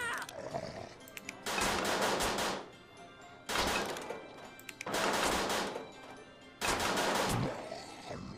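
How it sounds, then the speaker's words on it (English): Machine gun fire in Scribblenauts Unlimited rattles out in three or four long, loud sustained bursts separated by short pauses, with no talking over it. "Machine gun."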